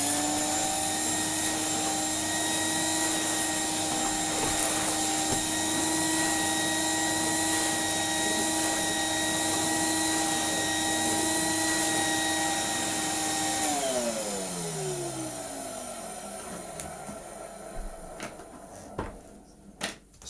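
A restored Numatic NV200 vacuum cleaner runs with a steady loud whine, then is switched off and winds down in a falling tone, followed by a few faint clicks and knocks.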